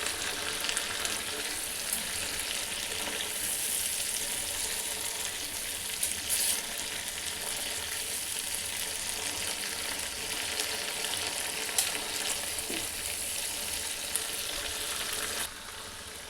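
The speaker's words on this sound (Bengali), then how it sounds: "এখন যে ডালটা সেদ্ধ করে রেখেছি ডালটা এর ভিতর দিয়ে নেড়ে চেড়ে নিব।" Boiled lentils are stirred into a hot cooking pan, giving a continuous frying sizzle with soft scraping and stirring sounds throughout, steady and close with a few sharper clicks.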